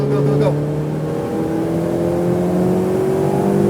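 A Ferrari 488 Pista engine revs hard and rises steadily in pitch as it accelerates on a race track, a loud continuous roar heard from inside the car.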